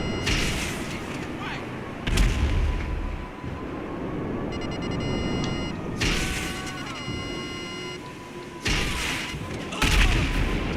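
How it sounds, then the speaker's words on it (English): Missile explosions in GTA 5 Online boom out in several heavy, broad bursts at intervals, with a rumbling engine-like drone and game noise filling the gaps between them. "Like I said, missiles that can't track"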